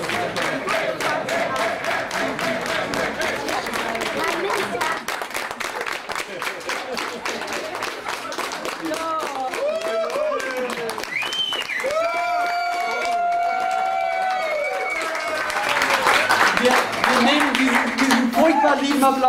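An audience claps during a long live breakfast-club broadcast, sustained applause mixed with crowd voices and cheering, with people talking throughout and the clapping growing louder toward the end.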